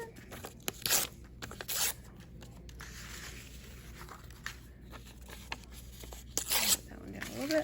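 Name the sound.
paper being ripped by hand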